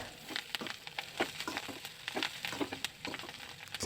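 Green chickpea leaves stir-fried with cooked onions in a pan, a soft continuous sizzle under frequent scraping and tossing strokes, close but fairly quiet, no talking.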